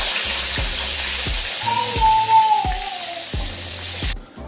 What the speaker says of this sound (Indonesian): saya akan mulakan goreng ikan masin kita ya